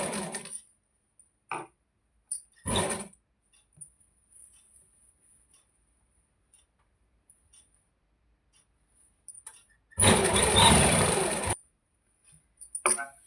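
A sewing machine stitching along a pasted, folded fabric edge runs in one loud burst of about a second and a half near the end, with a brief earlier burst and quiet handling between.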